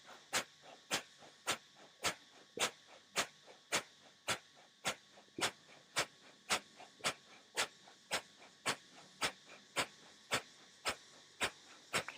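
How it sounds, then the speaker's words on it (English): Rapid, steady breath of fire from kundalini yoga practice: about two sharp, hissing exhalations per second, close and clear, in an even rhythm with no talking. "And we're going to start the breath of fire."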